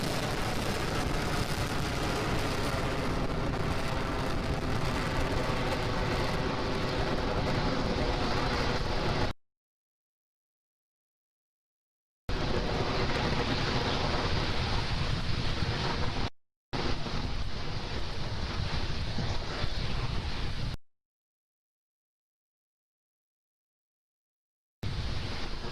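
Merlin 1D engines roar during the ANASIS-II rocket's ascent, a loud, broad, rushing rumble that cuts out abruptly into several stretches of total silence before resuming.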